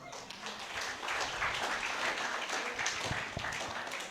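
A church congregation at a Sunday worship service applauds, a dense, even wash of clapping that runs steadily throughout and sounds somewhat distant.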